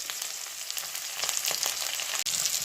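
Onion and ginger paste fries in a pan of oil with whole cumin, making a close, dense sizzle that holds steady throughout and cuts out for an instant near the end.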